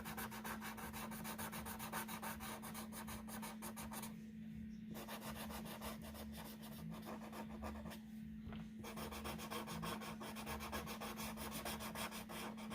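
Crayon rubbing steadily across paper to color in a basket, a continuous close scratchy rasp with two brief pauses, no voices.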